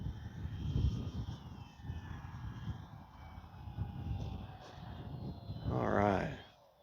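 Small RC model airplane flying in gusty wind, its engine whine steady under wind rumble, then a louder near pass with rising and falling pitch sweeping by toward the end.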